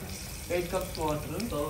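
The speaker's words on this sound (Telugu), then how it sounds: "సో వాటర్ పోస్తున్నాం గైస్ ఇందుకు." Water is poured into a pot of Dindigul-style chicken biryani, giving a steady, close splashing rush across the clip while a voice talks over it.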